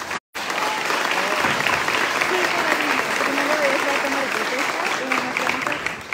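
A strong, sustained round of audience applause greets a municipal president at a tourism plan presentation in Puebla, dense and even clapping from a large crowd running continuously after a brief opening gap.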